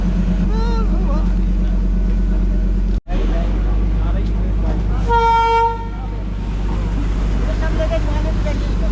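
The Darjeeling toy train gives a loud, sustained horn toot mid-way as it departs, over a constant heavy rumble of the train, with voices heard near the start.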